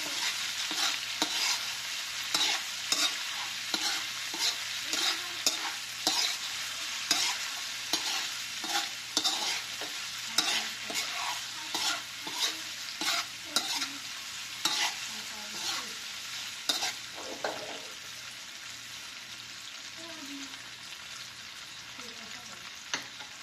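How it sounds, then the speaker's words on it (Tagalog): Luncheon meat sizzles steadily in a hot pan, with repeated scraping and stirring strokes cutting through the crackle. "kailangan, may prito po natin ng maayos ang ating luncheon meat"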